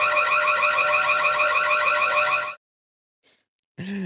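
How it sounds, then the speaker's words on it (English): An electronic alarm blares continuously for about two and a half seconds with a rapid warbling pulse, cuts to silence, then briefly restarts at the end. "So let's start the alarm."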